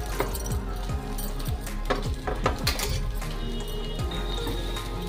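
Soybeans being stirred and tossed in hot mustard oil in a kadai, with repeated scraping clatters of a spoon against the metal pan over a soft steady sizzle, close and fairly quiet.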